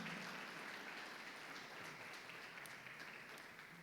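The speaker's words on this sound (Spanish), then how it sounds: "Dale un aplauso al Señor" A church congregation applauds in a sustained, even wash of clapping, fairly distant and alone without speech.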